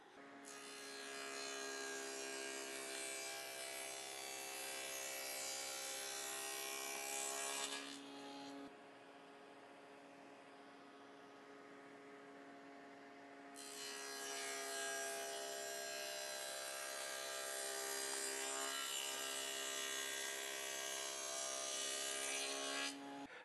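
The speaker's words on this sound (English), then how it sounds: "let's go ahead and make some cuts" A saw cuts through plastic miter-slot stock for a shop jig, a steady harmonic whine running for several seconds, pausing briefly, then resuming for a second long cut, fairly faint and with no talking.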